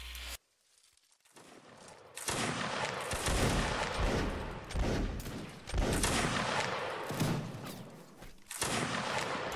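Massed musket volleys crackle in Mount & Blade: Warband's Napoleonic Wars, dense overlapping shots rolling on after a brief quiet start, loud and continuous with scattered sharper reports.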